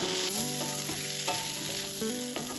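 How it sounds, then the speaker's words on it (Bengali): Fried bitter gourd pieces sautéed with spices in hot oil for a prawn curry, giving a steady, close sizzle with stirring scrapes throughout, over a faint tonal background. "এবার আমি এর মধ্যে দিয়ে দেবো ভেজে রাখা উচ্ছেগুলো"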